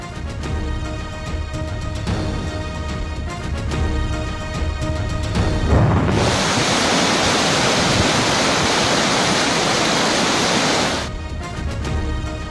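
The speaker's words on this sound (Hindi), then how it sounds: "कोयटा में भी मूसलाधार बारिश।" Heavy monsoon rain pours down in Quetta as a loud, dense hissing roar for several seconds. Before and after the downpour, a softer tonal background plays.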